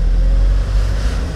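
A car accelerates during a driving lesson, its engine a loud, steady low rumble close by, with no talk over it.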